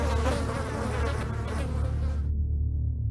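Flies buzzing as a sound effect, a dense close swarm drone that holds steady for a few seconds and then thins to a lower hum as the upper buzz cuts out.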